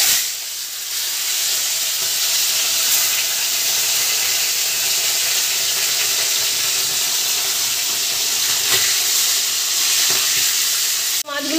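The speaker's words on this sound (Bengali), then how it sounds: "মাছগুলো হালকা করে ভেজে নেবো।" Tilapia fish fry in hot mustard oil with a loud, steady sizzle and hiss that holds evenly throughout, close up, ending with a brief clatter.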